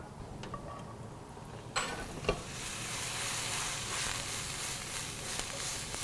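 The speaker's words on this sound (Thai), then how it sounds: "เวลาผัดผักนะฮะ" Vegetables stir-fry in rice bran oil with a steady, moderately quiet sizzle, broken by a couple of sharp utensil clacks against the pan.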